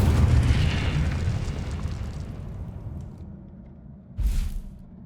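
An Incendio fire spell bursts in Hogwarts Legacy: a loud booming blast that fades over a couple of seconds, then a second short burst near the end, with no voices.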